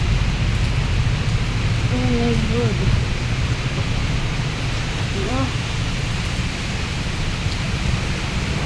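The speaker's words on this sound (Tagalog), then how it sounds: "My God, takot ako sa ulan. Sa kulog. Kidlat at kulog." Heavy rain pouring with thunder, a dense steady hiss close by, while a woman exclaims briefly over it.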